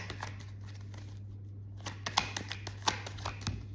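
Tarot cards being shuffled and drawn: quiet papery riffles and soft flicks, then several sharper snaps as individual cards are laid down, close and faint over a low steady hum.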